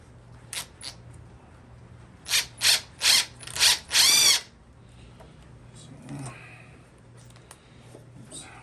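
A power tool drives a 3-inch screw into recycled wood for a bicycle rack, giving a few short bursts followed by a longer whirring run, close and loud, amid faint background hum.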